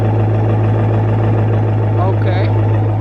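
A Dodge Charger R/T with a Corsa Xtreme exhaust idles steadily, giving a deep, even drone that holds constant throughout, with a brief faint higher sound near the end.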